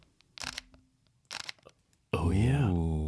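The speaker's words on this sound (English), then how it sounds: "This is the shutter on the Fuji X-T2." A Fuji X-T2 mirrorless camera fires its shutter twice, each a crisp mechanical click-clack about a second apart. A voice speaks close up right after.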